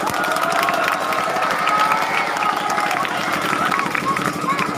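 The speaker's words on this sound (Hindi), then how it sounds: "बहुत खूब। जोरदार तालियां।" Loud applause and cheering from a crowd of students and guests at a school prize distribution at an Urdu high school in Buldana, a dense steady roar of clapping with voices mixed in throughout.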